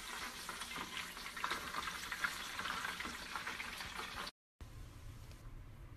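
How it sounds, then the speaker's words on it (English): Cornish hen frying in a pan with coconut oil gives a close, steady sizzle and crackle with some stirring, then cuts out briefly and returns as a dull, muffled hiss. "I am frying up some Cornish hen"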